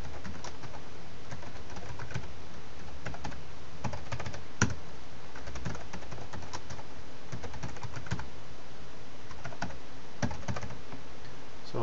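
Steady typing on a computer keyboard as a password is entered, with a continuous patter of close, soft key clicks and a few louder taps throughout, with no speech.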